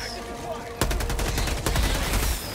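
Rapid bursts of automatic gunfire from a shooter video game set on a chaotic battlefield, loud and continuous after a brief lull, with players shouting over it.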